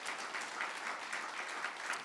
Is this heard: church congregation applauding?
yes